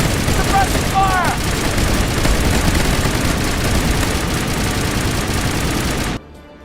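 Sustained heavy gunfire in the video game Mass Effect Legendary Edition: loud, dense rattling bursts with voices briefly mixed in, cutting off abruptly near the end.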